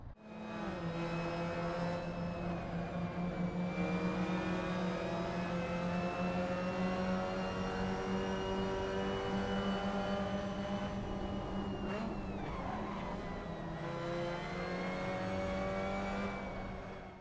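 A small Abarth sim racing car on a track in a racing game, its engine holding a steady high drone before dipping and revving back up near the end, with no talking.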